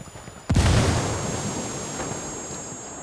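A grenade blast in the Ghost Recon Wildlands video game: one heavy, sudden boom that breaks the quiet, then a long rumbling tail that fades slowly over a few seconds, with no voices.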